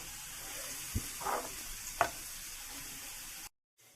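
A steady, quiet sizzle as fried tempering is added to a tamarind curry with bitter gourd, broken by a couple of clinks and a louder spatter, then stops abruptly.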